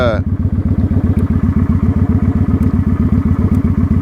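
A motorcycle rides along near Houston, Texas, its engine thumping in a rapid, even, loud rhythm throughout, heard up close with a brief voice at the start.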